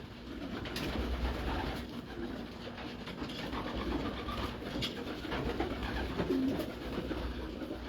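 A winning racing pigeon from a derby activation race coos softly amid a steady, busy background murmur, with low throaty calls surfacing through continuous ambient noise.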